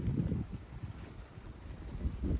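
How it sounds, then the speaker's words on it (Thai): Wind gusts through a coffee garden and buffets the microphone with a low, uneven rumble that swells at the start and the end. No one speaks. "ลมพัด"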